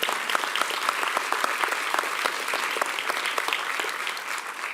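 Loud, dense applause from the audience at a school board meeting as coworkers and a past principal stand to be honored, a continuous crowd of hands clapping steadily for several seconds.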